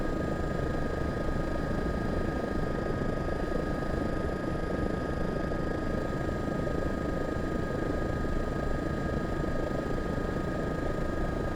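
A EC-135 helicopter in flight in the Aerofly FS 4 simulator over New York at night, a constant close rotor and turbine drone with a steady whine and no let-up.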